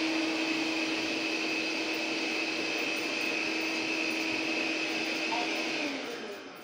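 A robot vacuum cleaner runs in a kitchen with a steady whirring motor hum and brush noise that holds constant, then fades slightly at the end.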